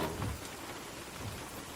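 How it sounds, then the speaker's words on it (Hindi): Steady rain falling outdoors, a dense, even hiss with a low rumble beneath, heard alone and fairly faint. "बारिश देख रही हो?"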